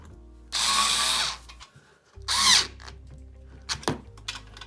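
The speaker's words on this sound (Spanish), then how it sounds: "voy a usar un atornillador eléctrico. Voy a usar esta punta, la S25" An electric screwdriver with an S25 bit tightens screws while an IKEA IDÅSEN desk is assembled, giving two short whirring bursts close by, then faint clicks and handling noises.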